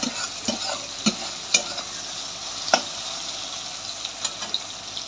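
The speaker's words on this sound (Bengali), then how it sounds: "এবার কড়াইতে একটু তেল দিয়ে সয়াবিনটাও দিয়ে দিয়েছি, একটু ভাজা ভাজা করে নামাতে হবে সয়াবিনটাকে" Soybean chunks fry in a little oil in a wok, a constant sizzle broken by sharp scrapes and clacks of stirring at irregular intervals, close and alone.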